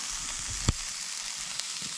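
Fiddleheads frying in beef tallow over an outdoor fire give a steady, soft sizzle throughout, with one sharp crackle and a fainter later pop. Nobody speaks.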